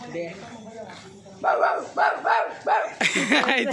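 A voice imitates a dog barking during a children's game: a rapid run of five close, rhythmic bark-like yaps, with chatter just before.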